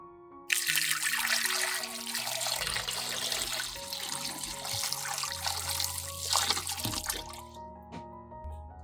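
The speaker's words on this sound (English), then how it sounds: "First, just pour water." Water runs from a tap over frozen tomatoes, a steady broadband rush of pouring and splashing that holds for about seven seconds, close and fairly loud, with no talk over it.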